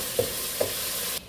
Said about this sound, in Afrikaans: En dan voeg ons maar net 'n opgekookte eetlepeltjie knoffel by en ek braai hom nog so verdere